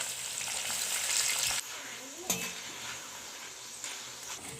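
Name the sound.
jackfruit chips frying with curry leaves added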